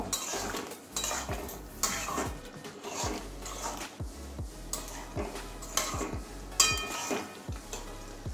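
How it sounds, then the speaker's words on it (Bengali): A spoon scrapes and clinks steadily against a pan while soybean and sweet potato curry is stirred, with repeated rhythmic strokes close up and no talking. "এবার ভালো করে মিশিয়ে নেব।"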